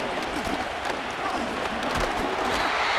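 Stadium crowd roaring steadily at a Madden NFL 25 football game, a dense, even wash of cheering and noise throughout with no distinct voices standing out.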